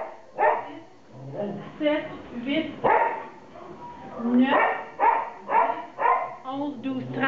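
Several dogs in an animal shelter kennel bark and yip repeatedly in loud, close bursts, with a voice counting aloud alongside them.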